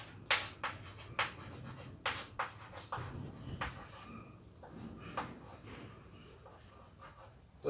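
Chalk or marker scratches quickly across a board as a teacher writes a passive voice sentence, with short tapping strokes in irregular bursts and a faint room murmur beneath.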